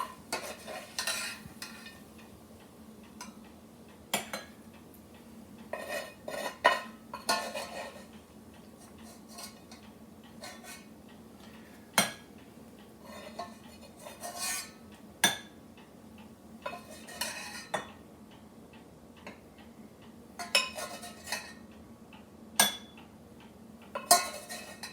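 Metal utensils clink and scrape against bowls while rendered bacon is divided up in a Pennsylvania Dutch kitchen. Sharp, irregular clatters rise from a quiet background, with a faint sizzle-like hiss beneath them.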